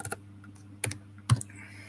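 A computer keyboard clicks in a few sparse keystrokes over a quiet background hum, close and fairly soft, with no voices.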